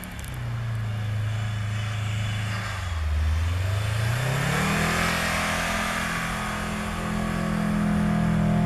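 A Subaru Forester engine revs steadily and loudly while driving off road in snow, the pitch dipping and then climbing again as it accelerates, continuous and close with no voices.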